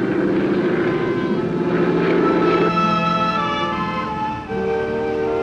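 A small propeller plane drones steadily in flight over the Alborz Mountains of northern Iran, its loud, even engine tone shifting pitch partway through as it banks.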